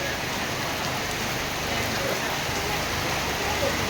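Steady rain pours down over a busy local market, a dense, even hiss of drops hitting surfaces close by, continuous throughout with no pauses.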